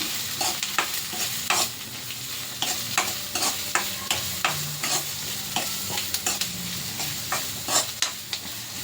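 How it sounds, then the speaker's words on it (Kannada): Onions frying in oil in a home kitchen, a steady sizzle broken by repeated scraping stirs of a spoon against the pan, close and fairly loud with no talking. "ಎಣ್ಣೆಲಿ ಸ್ವಲ್ಪ ಈರುಳ್ಳಿ ಫ್ರೈ ಆಗಲಿ."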